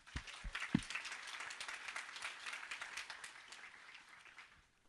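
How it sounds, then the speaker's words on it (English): Audience at a Muslim Tech Fest talk gives a round of applause, a steady wash of many hands clapping at moderate distance, fairly soft, with no speech over it. "maybe we give a round of applause to all of you"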